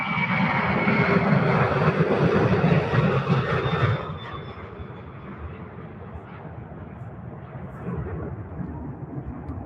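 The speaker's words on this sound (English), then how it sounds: "UPS 767 with winglets rolling now." A UPS Boeing 767 fitted with winglets rolls for takeoff at the Worldport in Louisville, its engines a broad, loud roar that drops off after a few seconds to a fainter, steady jet rumble heard from a distance.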